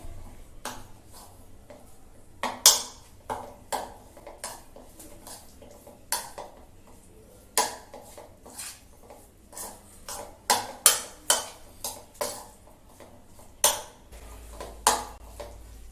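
Metal spoon scraping and clinking against a bowl while marinated chicken is mixed with ginger garlic paste, garam masala and chili powder, sharp irregular clacks repeating close by with no talking.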